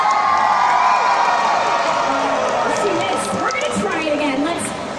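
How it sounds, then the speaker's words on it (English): A crowd cheers and shouts loudly and steadily throughout, with whoops and children's voices, as a bottle goes into a recycling bin; the noise eases slightly near the end. "I need you folks to cheer your loudest"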